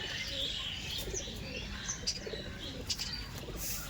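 Madras pigeons coo softly in a small group, a few faint low calls with light chirps and a flutter of movement, heard alone without talk.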